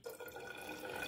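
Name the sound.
pouring 20 ml of water into a solution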